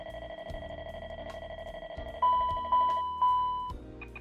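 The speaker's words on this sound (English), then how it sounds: "Smoke detector." A smoke detector alarm test in a Challenger 650 cockpit in a flight simulator game sounds three loud, evenly spaced electronic tones over steady beeping and cockpit chimes.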